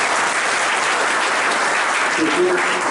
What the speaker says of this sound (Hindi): एक बार जोरदार ताली दरोगी जी के लिए